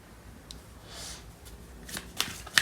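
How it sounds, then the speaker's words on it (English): A tarot card is drawn from the deck with soft papery rustles, building to a few crisp card flicks and snaps near the end, close and fairly quiet. "let me pull out this card."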